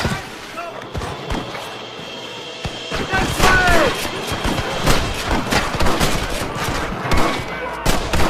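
Gunfire in the video game Red Dead Redemption 2 on PS4: repeated sharp shots and cracks ring out across a shootout, some close and loud, others scattered, with voices speaking over parts of it.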